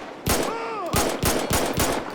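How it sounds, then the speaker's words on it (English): Pistol shots with overhauled gun sounds in GTA 5: about five sharp, close reports spaced unevenly, each with a short ringing tail, and a faint whistling tone between the first two. "First, a pistol."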